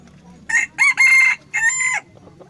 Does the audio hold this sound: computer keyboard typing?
no